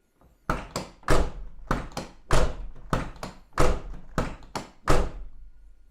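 A car door lock with standard pins is worked back and forth repeatedly, giving about ten heavy metallic thunks and clacks in an irregular rhythm, close and loud.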